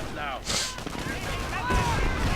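Sharp gunshots from an M8 armored car in a World War II strategy game, a few quick bursts among battle noise, heard under a commentator's voice.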